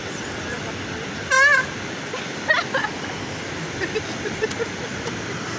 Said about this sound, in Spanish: así amaneció el río Pamplonita, con la fuerte lluvia de la madrugada.